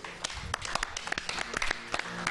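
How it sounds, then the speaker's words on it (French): An audience gives brief, scattered clapping for Yaya Isaïe Kassé, faint and a little distant, with sharp separate claps rather than a full roar. "Je vous demande d'applaudir Yaya Isaïe Kassé."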